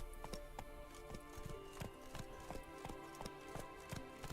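Roach the horse gallops in The Witcher 3, hooves striking in a steady rapid clip-clop rhythm over a continuous musical and ambient backdrop, fairly quiet and without voices.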